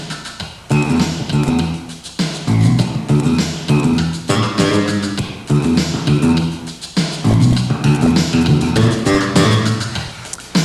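Fingerstyle electric bass lays down a line locked to the kick drum pattern, over a full drum groove with steady phrases recurring every couple of seconds, loud and close.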